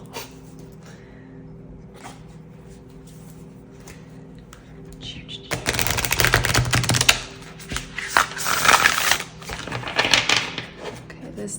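After several seconds of quiet room hum, tarot cards are shuffled in a few brisk riffling bursts, fairly close and crisp.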